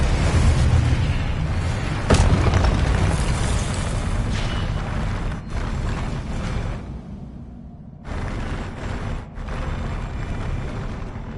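A Confringo explosion spell in Hogwarts Legacy, loud booming blasts with a whooshing burst and rumbling tail that cut off abruptly, then a second burst follows, no talking.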